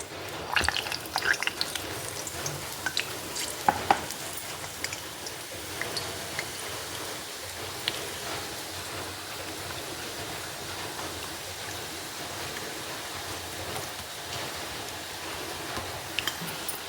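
Boondi batter for sweet boondi fries in hot oil, a steady crackling sizzle with scattered sharp pops, loudest early on and continuing evenly throughout.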